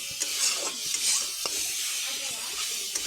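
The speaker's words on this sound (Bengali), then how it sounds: "1 চামচ ধনিয়ার গুঁড়া আর আধা চামচ জিরার গুঁড়া দিয়ে আবার নাড়া দিয়ে মিশিয়ে নিচ্ছি" Coriander and cumin powder frying in a pan while being stirred, a continuous close sizzle with soft scraping strokes and occasional light taps of the spoon, no voices.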